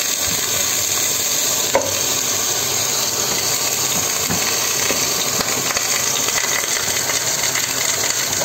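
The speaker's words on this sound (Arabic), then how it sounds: "بعد كده هنزل بالأرانب التشوحة بتاعتها في الزيت بالمسكة." Rabbit pieces fry in oil flavoured with mastic, giving a steady, moderately loud hiss with a few faint clinks and scrapes of stirring; no voices.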